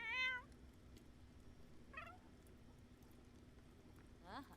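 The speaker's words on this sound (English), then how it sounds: "They just stand in front of the fire and meow." Cats standing in front of a fire meow faintly, three separate cries spaced a couple of seconds apart over a quiet background.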